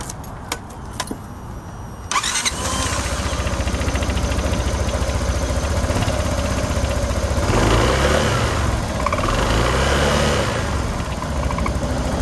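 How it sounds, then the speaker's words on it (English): Engine of a Kymco People GT 300i scooter starts after a few clicks and handling noises, then settles into a steady, close, continuous idle with a slight swell partway through, with no talking. "Now it's time to start the engine and run the bike. Run the bike's engine for several minutes."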